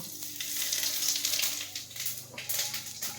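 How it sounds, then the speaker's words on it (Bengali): Cumin seeds tempering in hot oil for a home-cooked dish give off a steady, crackling sizzle. It is close and fairly even, with light spattering bursts and no talk. "জিরে ফোড়ন দেবো"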